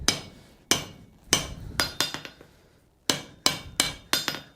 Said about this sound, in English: you're using the outside of it to hammer it around